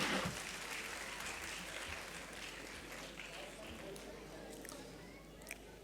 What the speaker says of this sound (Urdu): مولانا کے لیے زوردار تالیاں ہو جائیں۔